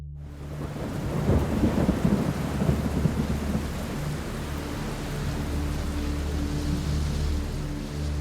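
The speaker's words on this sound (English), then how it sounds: "It was a dark and stormy night." A thunderstorm sound effect: a deep rolling thunder rumble builds and crackles early on, then fades into a steady hiss of heavy rain, loud and continuous for about eight seconds with no voices.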